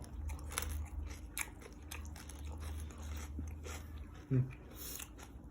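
Crunchy bites into crispy grilled pig ear, with faint chewing throughout and one sharp, loud crunch near the end, heard close to the microphone over a low background hum.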